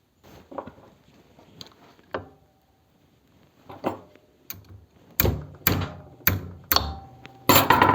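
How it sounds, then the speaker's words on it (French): A hammer taps a socket on a Honda CB125 Twin engine during disassembly, sparse at first and then a quicker series of sharp, close metallic knocks. "un petit coup de marteau au tapotant, et ça se dévisse"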